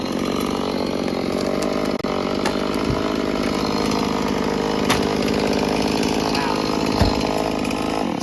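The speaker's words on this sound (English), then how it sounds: "Still holding on to the chainsaw." A chainsaw roars steadily and loudly up close while cutting wood, a constant buzzing engine drone, with no talking.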